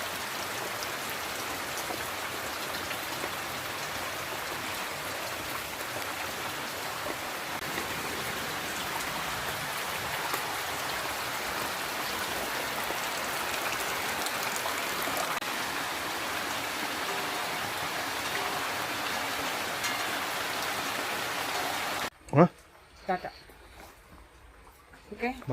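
Steady, dense rain falls outdoors in a Kerala village for over twenty seconds as an even close hiss, before it suddenly drops away and brief voices and thumps follow.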